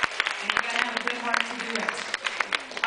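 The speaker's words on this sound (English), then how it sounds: "A round of applause for that." A theme-park nightclub audience at Walt Disney World's Pleasure Island claps in scattered, sharp bursts, a steady patter of applause mixed with voices talking over it.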